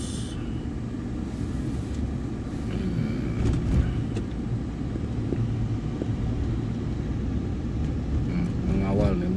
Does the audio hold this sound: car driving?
yes